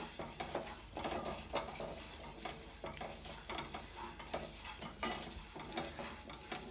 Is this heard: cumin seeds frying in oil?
yes